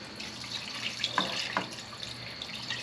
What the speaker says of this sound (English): Now, I like to pour the liquid into the can